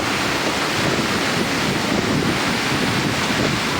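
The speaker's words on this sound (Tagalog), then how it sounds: "Lakas ang hangin. Lakas ang ulan." Roaring typhoon wind buffets the microphone on Boracay island in a continuous loud rush, with a dense hiss of heavy rain blended in throughout.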